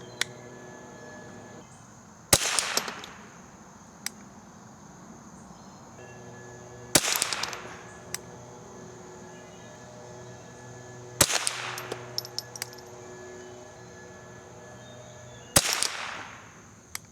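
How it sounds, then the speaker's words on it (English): Four sharp, loud .22 rifle reports from a vintage Marlin Model 60 firing Eley Benchrest ammunition ring out a few seconds apart at an outdoor range, each with a brief echoing tail, over a steady background of insect chirping. "that's 5 shots with the Marlin Model 60"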